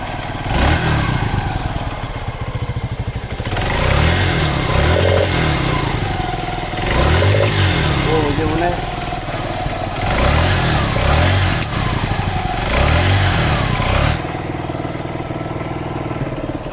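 A TVS Metro 100cc motorcycle, newly fitted with a lithium phosphate battery, runs close and loud, its single-cylinder engine rising and falling in repeated revs over a steady idle.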